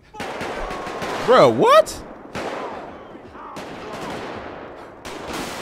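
Gunfire in GTA 5 during a police patrol: a few sharp shots spaced a second or more apart, heard with a voice talking over them.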